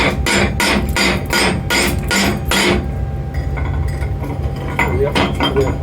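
Slag being knocked and chipped off a freshly cut half-inch steel plate, several sharp metallic hits in quick succession followed by scraping and a few lighter clinks, close and loud.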